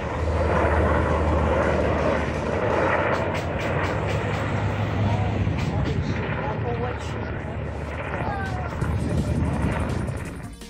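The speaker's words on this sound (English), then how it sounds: "we saw one of the military helicopters doing a flyover." A military helicopter flies over a beach on Canada's east coast, producing a loud, sustained rumbling roar that stays steady throughout with faint background sounds.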